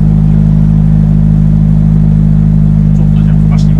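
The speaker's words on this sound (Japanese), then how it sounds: "めっちゃ吹き上がりいいね" A Toyota GR86 engine revs in a steady, loud drone, a continuous low tone held throughout with no speech over it.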